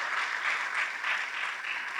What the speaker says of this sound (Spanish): Fuerte, fuerte las palmas al Todopoderoso,